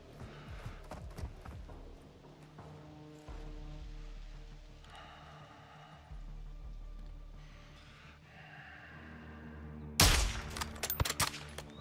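Sniper rifle gunshots in the Call of Duty: Modern Warfare II campaign mission Recon By Fire: a sharp, loud burst of cracks near the end, following a stretch of low, droning game score.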